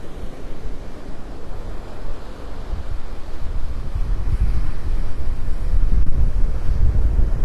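Strong wind buffets the microphone on an early-morning beach in North Naples, Florida, a steady loud roar mixed with surf that swells slightly toward the end, with no voices.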